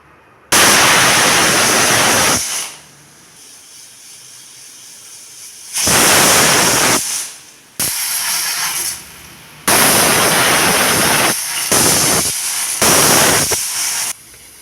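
A pressure cooker whistles in loud, hissing bursts, several long blasts separated by quieter pauses, close by and with no talking.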